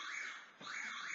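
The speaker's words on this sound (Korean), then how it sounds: "알람 빨리 꺼." A steady electronic alarm beeps on and off at a quiet volume, a high warbling tone with one brief dip in the middle, set for midnight and going off alone.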